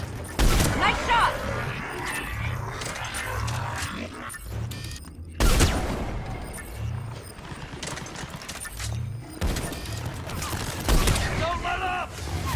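Mass Effect 3 combat on the Asari homeworld: repeated bursts of rapid gunfire and sharp shots rattle through the scene with explosive cracks, continuous and fairly loud, with distant shouting mixed in.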